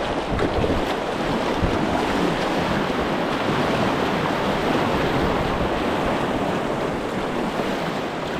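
A kayak pushes into river white water, the rushing, churning flow filling the scene as a loud, steady roar with wind buffeting the microphone throughout.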